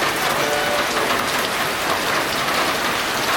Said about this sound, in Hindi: It's still raining.